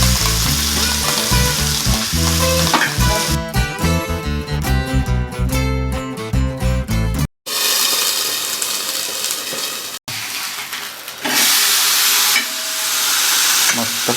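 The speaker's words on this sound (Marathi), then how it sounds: "आता एक साईड भाजत चालले आपले पापलेट." Marinated pomfret fish frying in oil on a hot tawa, a continuous bright sizzle; the first half is largely covered by loud background music, then the crackle continues alone.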